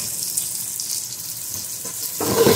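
Onions frying in a pot for white pulao, a short spell of bright, hissing sizzle that swells slightly louder toward the end, with no talking.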